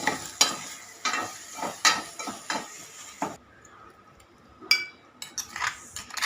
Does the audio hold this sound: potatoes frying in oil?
yes